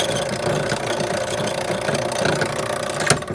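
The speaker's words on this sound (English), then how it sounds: "cutting extra keys for the burn or Locinox profile cylinder on the Y1 blank" Key cutting machine cutting a Locinox profile cylinder key on a Y1 blank, giving a steady loud mechanical grinding and buzzing throughout with a brief sharp click near the end.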